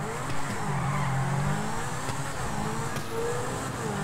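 A Zentano supercar in the video game GTA 5 speeds off a jump, its engine droning steadily under a rising and falling pitch while the tyres hiss and squeal, with a small thump near the start.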